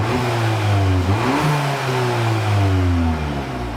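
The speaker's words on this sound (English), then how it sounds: "Let's give it some revs." Audi S1 engine revving in dynamic drive mode, a loud, close rising and falling growl that climbs twice in pitch before easing back down, with no talking.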